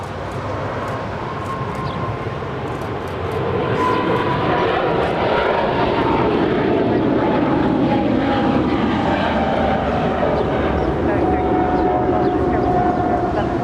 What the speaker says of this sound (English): This is a China Cargo Airlines 777 departing to Shanghai.